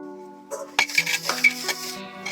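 Dishes being washed by hand, with utensils clattering and scraping in a series of sharp clinks and knocks against a steady background hum, close and moderately loud.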